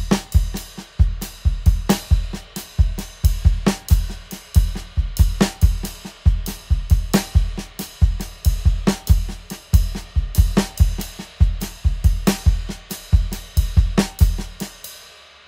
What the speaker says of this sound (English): So that's how you play a paradiddle over a jazz beat.